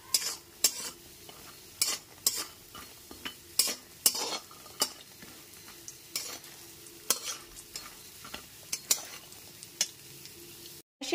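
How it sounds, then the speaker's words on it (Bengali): Bori lentil dumplings frying in oil over low-to-medium flame, a soft continuous sizzle punctuated by repeated sharp spatula scrapes and clinks against the pan at an irregular rhythm. "গ্যাসের ফ্লেমটা লো টু মিডিয়ামে রেখে বড়িগুলোকে ভেজে নিতে হবে"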